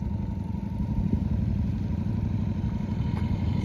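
A 2001 Honda Shadow Spirit VT750 motorcycle engine runs steadily at idle, a continuous low throbbing rumble, close and loud, with no voices.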